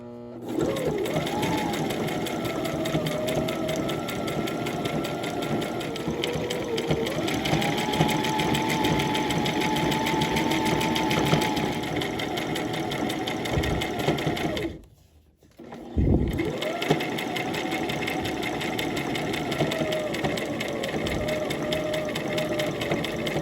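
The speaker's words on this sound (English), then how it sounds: "I still have it set on straight stitch, and I just want to stitch close to the seam here" A sewing machine runs a straight stitch close to a seam on a jogger set, whirring steadily and loudly up close for long stretches, with one short pause before the motor picks up again.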